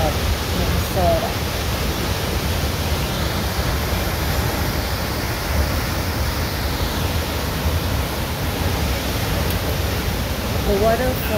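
A 20-foot waterfall at Grand Portage, Minnesota, running low in the dry season, makes a steady, loud rushing roar from nearby, with brief voices faintly audible.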